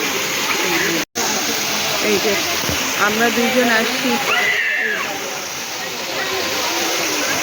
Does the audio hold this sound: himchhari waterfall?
yes